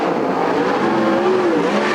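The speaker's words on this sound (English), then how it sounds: "Billy Aton trying to get underneath John Carney for 5th" Sprint race cars at Sunset Speedway Park in a Western Sprint Tour event, racing close together for position: a loud, steady roar of engines with a rising and falling engine pitch throughout, no talk.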